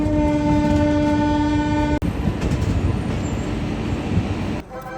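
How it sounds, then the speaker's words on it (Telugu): A train standing at Ayodhya station, a deluxe tourism train with AC restaurant car, sounds a long steady horn blast at the start, then a loud rumbling platform roar with clatter that drops away near the end. "అదే మనం వచ్చిన ట్రైన్"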